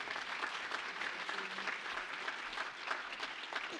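An audience at a gubernatorial forum applauds a student, a steady even wash of clapping that holds for several seconds, moderately distant and on its own.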